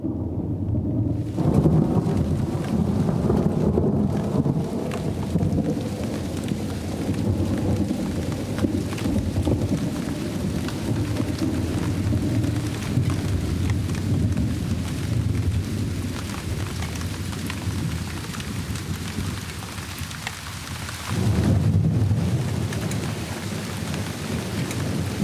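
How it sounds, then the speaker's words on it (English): Rain pours down steadily on the parched plains of the Venezuelan Llanos while thunder rolls through in deep rumbles, with a loud continuous roar throughout. "the horizon rumbles with the promise of rain"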